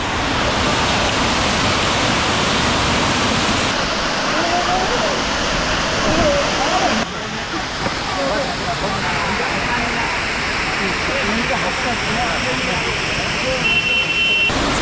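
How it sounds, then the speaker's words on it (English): The Paglachora waterfall roars loudly and continuously close by, a dense rushing wash of water with voices faintly under it. "We have finally come to Paglachora waterfalls."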